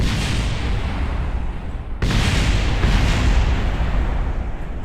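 Rocket booster explosion in a spacecraft video game, a loud, dense rumbling roar that runs the whole time, with a sudden sharp burst about halfway through followed by continued heavy booming.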